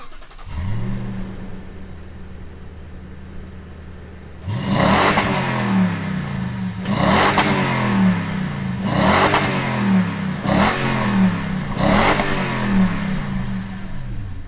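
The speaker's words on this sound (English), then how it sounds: "let's fire it up and hear what that V8 sounds like" The V8 engine of a 2021 Toyota Tundra Platinum pickup turns over and starts, then revs repeatedly in regular bursts that rise and fall, loud and close, with no voices.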